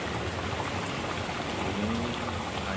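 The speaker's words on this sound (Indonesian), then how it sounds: "Ini airnya sangat deras sekali," Fast, swollen river after heavy rain, running beside trees under an overcast sky: a steady, dense rushing wash of water, constant and fairly loud throughout with no talk.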